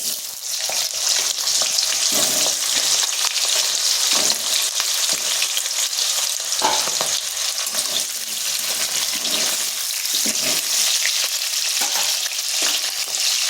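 Potatoes frying in hot oil with cardamom, cloves and cinnamon for a vegetarian aloo dum make a loud, dense, continuous sizzle and crackle, with bursts of spattering throughout and no voices.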